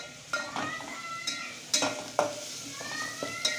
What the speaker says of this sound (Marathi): आलू लसूण पण चांगलं परतत आलेलं आहे